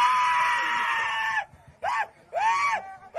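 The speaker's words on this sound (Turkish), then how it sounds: "Bu inanılmaz bağıran adam değil mi?" A man screams loudly in a viral clip, first one long sustained wail and then shorter strained bursts, each breaking off into silence.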